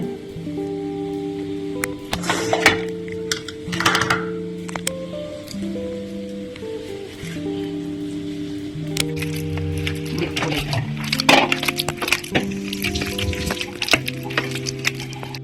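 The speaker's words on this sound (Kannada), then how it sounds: "ಇವಾಗ ಬಾಳೆಹಣ್ಣೆಲ್ಲ ಸುಲ್ದು ಇಟ್ಕೋತೀನಿ ಅದನ್ನ ಸ್ವಲ್ಪ ಸ್ಮ್ಯಾಶ್ ಮಾಡ್ಕೋಬೇಕು" Ripe peeled bananas squished and mashed by hand for a Coorg-style banana tambittu, giving soft wet squelching bursts that come and go beneath steady background music, with no talking.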